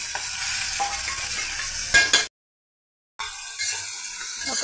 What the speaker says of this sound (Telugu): పచ్చిమిర్చి ఈ విధంగా ఆయిల్లో ఫ్రై అవుతున్నాయండి